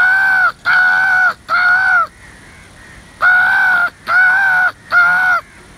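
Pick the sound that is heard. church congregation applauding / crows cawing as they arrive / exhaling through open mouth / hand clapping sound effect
crows cawing as they arrive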